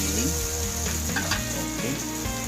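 Stock poured into a pan of ground pork sizzles loudly and steadily with bubbling crackle and stirring, close and continuous without voices.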